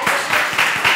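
Applause from a TV dance-show audience welcoming a contestant, dense clapping with a few louder bursts across one second, close and bright.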